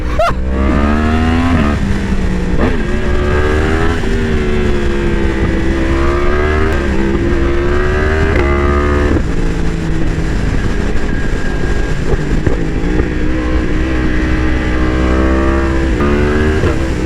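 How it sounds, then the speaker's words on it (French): A Yamaha R1M with a crossplane engine revs hard on a road, its loud, rough, continuous howl rising and falling through gear changes close by without a break. "Le son du crossplane"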